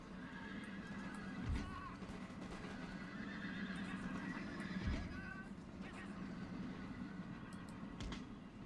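Horses whinny and neigh faintly amid a dense, busy din of battle noise and hoofbeats, with voices mixed in, from cavalry in the video game Empire: Total War.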